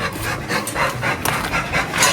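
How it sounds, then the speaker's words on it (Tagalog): Dogs pant in quick, rhythmic breaths close by, with no clear barking. The panting carries on for a couple of seconds against light background noise. "Daming aso dito"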